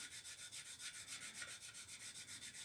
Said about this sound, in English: So I'm just doing the sanding without any pressure